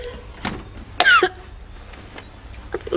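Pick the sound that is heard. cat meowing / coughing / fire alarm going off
coughing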